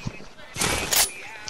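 A sniper rifle shot rings out in a Fortnite match, one loud sharp crack followed by a brief burst of noise, with players talking over the game sounds.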